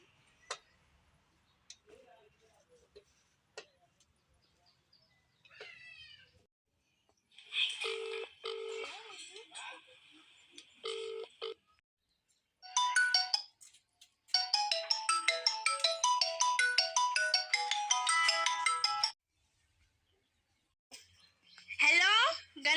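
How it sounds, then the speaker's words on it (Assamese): A phone call placed from a park: a short burst of dialing beeps, then a repeated electronic ringing pattern lasting several seconds, loud and close, with scattered speech earlier. "ফোন এটাকে মাৰি চাওঁ"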